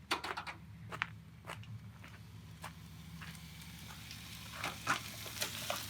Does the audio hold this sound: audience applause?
no